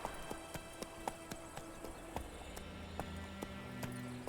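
Hoofbeats of Roach the horse in The Witcher video game sound as an even clip-clop at a slowing pace, fairly near but soft, over a quiet droning game background.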